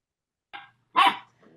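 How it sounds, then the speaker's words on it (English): An excited puppy lets out a few short barks and a yip close by, three quick bursts with the loudest in the middle, no talking over them. "there's a very excited puppy in the background"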